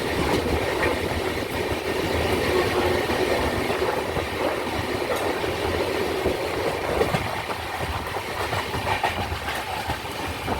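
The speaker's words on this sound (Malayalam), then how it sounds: "ട്രെയിൻ കഴക്കൂട്ടം റെയിൽവേ സ്റ്റേഷനിലേക്ക് പോയിക്കൊണ്ടിരിക്കുകയാണ്." Kannur–Thiruvananthapuram Janshatabdi train running on tracks in Kerala, heard from inside as a steady loud rumble with rhythmic clickety-clack of wheels over rail joints.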